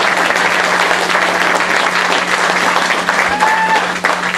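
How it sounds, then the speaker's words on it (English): An outdoor crowd at the Anderson Springs groundbreaking ceremony in Lake County gives Congressman Mike Thompson a round of applause, with loud, sustained, even clapping that continues without a break while a low steady hum runs underneath. "Let's give a round of applause to Congressman Mike Thompson."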